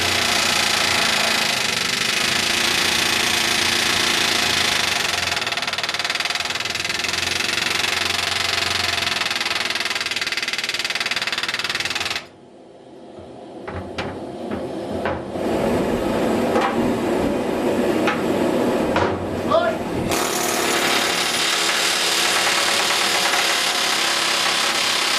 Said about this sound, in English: You will see the rivet quickly shorten as it is hammered into the countersunk hole.